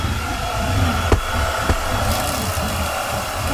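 Kalado cordless vacuum cleaner running on carpet, a loud steady motor whine with a couple of brief thumps as debris is sucked up.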